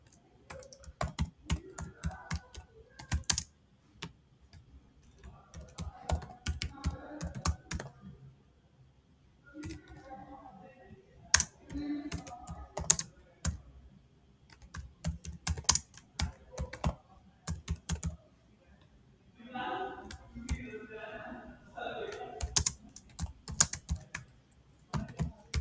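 Continuous typing on a computer keyboard, with irregular bursts of clicking keystrokes and short pauses over about 25 seconds, close and moderately loud, without speech.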